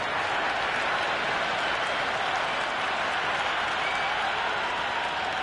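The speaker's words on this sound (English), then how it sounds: "There's an almost tangible fervour throughout the crowd at the moment." Stadium crowd applauding and cheering in the cricket video game Cricket 26, a steady, dense roar of clapping that holds at an even level throughout with no pauses.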